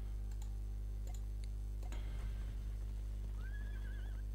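Over a constant low electrical hum, a few ticking clicks sound, then a faint, thin video-game horse whinny rises and wavers near the end, in the game Dark Parables: Curse of Briar Rose.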